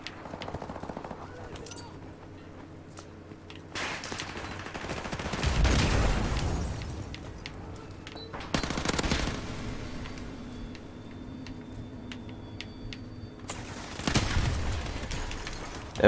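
Bursts of M4 carbine fire in Call of Duty 4 Modern Warfare Remastered, several sharp automatic volleys separated by quieter gaps, loud and close, with game ambience between.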